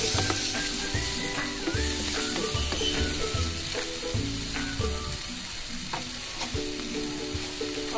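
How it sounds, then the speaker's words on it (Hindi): Chopped tomato and onion fry in a pan for a tawa burger filling, giving a continuous sizzle with stirring clatter and a tonal hum running underneath. "और ये है टमाटर, ये डालेंगे और ये प्याज भी, ये भी डाल देंगे। थोड़े से फ्राई कर लेंगे।"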